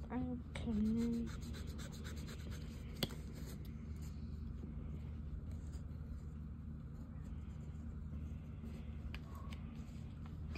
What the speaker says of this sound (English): Let me just erase my 8 so I can.